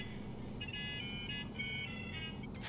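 Faint electronic phone ringing in Batman: Arkham City, a warbling trilled tone repeating in two bursts over a low background hum, cut off by a short clatter at the end.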